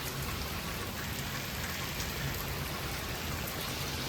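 Heavy monsoon rain pours steadily in Balagam Ghed, Gujarat, a dense, continuous roaring hiss of drops hitting the ground and nearby surfaces, loud and unbroken with no voices.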